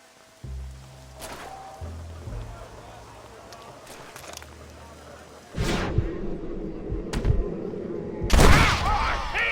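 Gunshots in a Red Dead Redemption shootout: a few sharp, loud reports ring out amid tense game audio and spoken dialogue, with bursts clustered toward the end.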